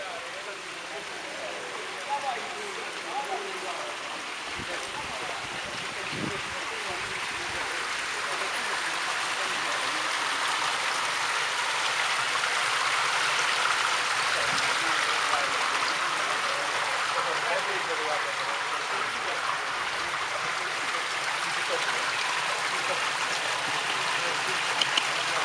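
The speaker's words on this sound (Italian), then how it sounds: "tutto questo fuoriuscire d'acqua è in più, quindi si perde e va a finire a mare" Water gushes from old spring fountains at the abandoned ancient spa baths of Castellammare, a steady broadband rush that swells slightly and stays loud and close throughout.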